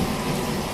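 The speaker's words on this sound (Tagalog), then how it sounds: "Dumadagundong ang kulog." Steady rain pours down with a low rumble of thunder beneath it, loud and continuous throughout.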